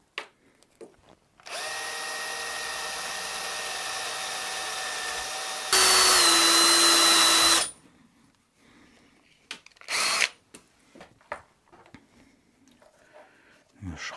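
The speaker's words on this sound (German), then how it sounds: "Diese Stufenbohrer, vielleicht funktioniert es damit." A power drill with a step drill bit whirs for several seconds, then revs up to a louder, higher whine before stopping, followed by clicks, handling noises and a short burst.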